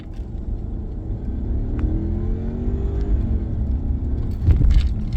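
A V8 Jaguar engine in sport mode, a steady low rumble building gradually with a rising rev and a louder surge near the end, close by with no talk.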